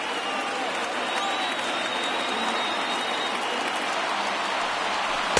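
A crowd of more than 36,000 at a baseball game rises to its feet applauding, a dense, continuous roar of clapping and cheering spread across the stadium with no breaks.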